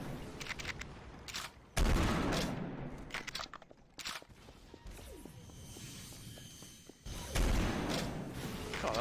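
Video game gunfire in Garry's Mod, bursts of loud rapid shots and crunching impacts come and go across the stretch, with gaps of lower clatter between them.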